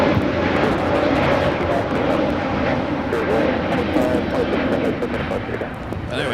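A Spirit Airlines jet bound for Louisville roars on takeoff from runway 25 right at LAX, a broad sustained engine rumble heard from a distance with faint clicks over the top.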